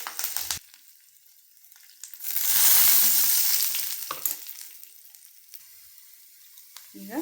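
Garlic and cumin hitting hot oil in a pan for a North Karnataka-style greens dish, with a strong sizzle swelling up for a couple of seconds, then quieter crackling and occasional clinks close by.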